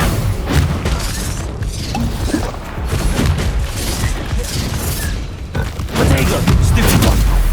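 Bombarda and Confringo spell blasts in the video game Hogwarts Legacy, a dense run of booming, crashing impacts that stays loud and continuous throughout, with little pause between bursts.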